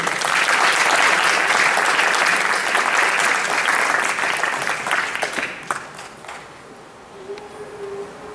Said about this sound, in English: please now, a nice round of applause for contestant number three